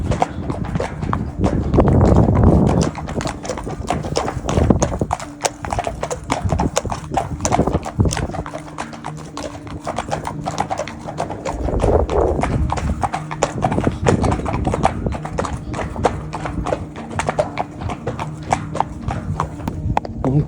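Horse hooves clip-clop in a steady, close walking rhythm on a long ride through the countryside near Hominy Lake. The hoofbeats sound against light rustling and tack noise, with no talk.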